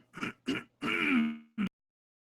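Someone clears their throat and coughs close to the microphone, two short rough bursts, then a longer drawn-out grunting clear, then a final short one, with no speech.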